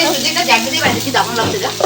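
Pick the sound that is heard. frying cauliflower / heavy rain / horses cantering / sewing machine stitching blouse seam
frying cauliflower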